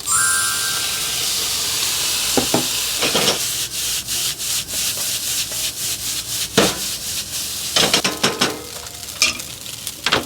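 Chashu fried rice with soy sauce being stir-fried over low heat, a soft continuous sizzle broken by repeated sharp scrapes and taps of a utensil against the pan, close and clear with no talking.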